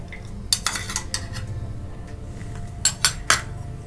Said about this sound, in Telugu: ఇప్పుడు డ్రై ఫ్రూట్స్ యాడ్ చేస్తున్నాను